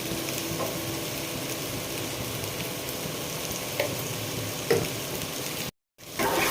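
Salted ivy gourd pieces fry on low heat in a pan with a steady, close sizzle, broken by a few soft clunks as they are stirred. The sound cuts out briefly near the end.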